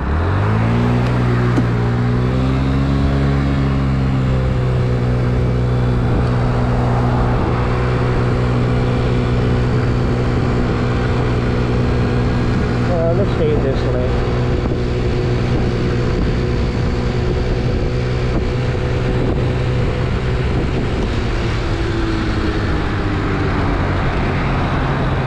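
A 50cc scooter engine droning steadily while riding, loud and close, with its buzzing tone rising early as it speeds up, holding level for a long stretch and dipping near the end, with road and wind noise throughout.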